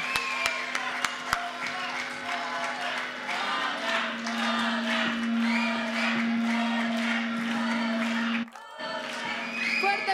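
An audience applauds and cheers an orchestra at a live evening concert, a sustained wash of clapping with occasional whoops under a steady tone, with a voice speaking over it.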